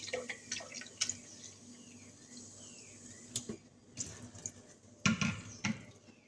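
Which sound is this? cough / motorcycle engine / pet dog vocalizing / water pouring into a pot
water pouring into a pot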